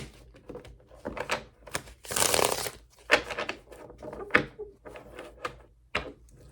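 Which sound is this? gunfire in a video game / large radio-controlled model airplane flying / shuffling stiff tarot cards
shuffling stiff tarot cards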